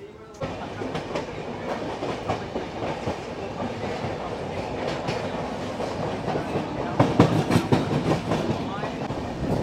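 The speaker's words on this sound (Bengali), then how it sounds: "দেখুন আমাদের ট্রেন কিন্তু আবার রওনা দিয়েছে তার গন্তব্যের দিকে।" The Howrah Barbil Jan Shatabdi Express rolls along the tracks near Santragachi, its wheels clattering in a steady clickety-clack that grows louder toward the end, with a faint voice in the background.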